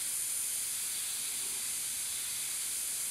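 An airbrush sprays paint while rendering water droplets on a rose, giving a continuous, even airy hiss that holds steady throughout with no voices.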